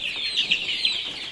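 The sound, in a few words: chickens clucking in a backyard coop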